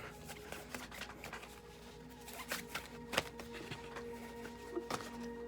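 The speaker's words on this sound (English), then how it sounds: "Let me back up so I can shuffle more." Tarot cards are shuffled by hand in soft, quick riffling bursts and taps, close and quiet, with brief pauses between passes.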